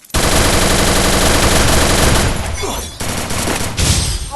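Rapid automatic gunfire from the Free Fire video game blasts in a loud sustained burst, then breaks into shorter volleys and scattered shots.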